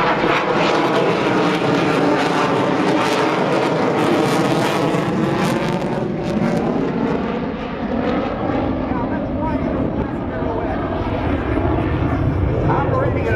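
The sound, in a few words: aerobatic airplane engine during a flat pirouette maneuver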